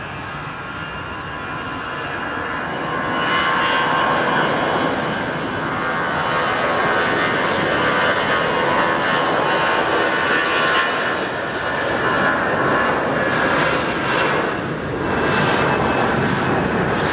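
A jet airliner takes off from runway 14 at Dhaka airport, its engines a loud, steady broadband roar that swells after the first few seconds and holds strong throughout, with no voices over it.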